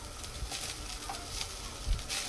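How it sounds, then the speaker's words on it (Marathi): Onion roasts in a hot kadhai for a chicken masala, giving a low, faint sizzle with soft scraping and stirring scuffs scattered across the moment. "कांदा भाजून घेते।"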